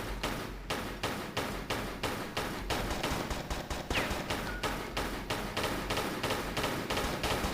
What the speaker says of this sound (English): let's shoot this guy